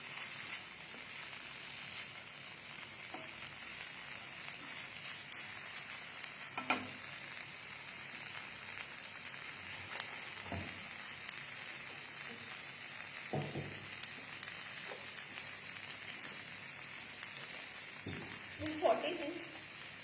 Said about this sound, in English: So I'll add the paneer now. And we'll saute it only for a couple of seconds